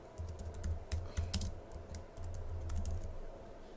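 Keys clicking steadily on a computer keyboard while a name is typed, close and fairly quiet over a low hum.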